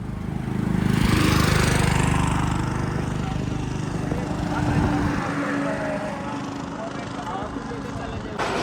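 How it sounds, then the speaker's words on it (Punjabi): A tractor pulling a loaded trolley, carrying shuttering materials, arrives with a loud, close, low engine drone that peaks early and then settles into a steady rumble, with voices over it. "ਆਪਣੀ ਆ ਟਰਾਲੀ ਭਰ ਕੇ ਇੱਕ ਟਰੈਕਟਰ ਹੋਰ ਆ ਗਿਆ ਆਪਣਾ"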